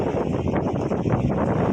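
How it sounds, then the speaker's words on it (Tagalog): Steady broadband wind roar at a beach in Dipolog City buffeting the microphone outdoors, constant and fairly loud throughout with no voices. "Mahangin-hangin na."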